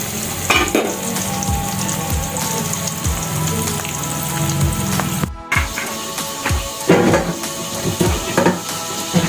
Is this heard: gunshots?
no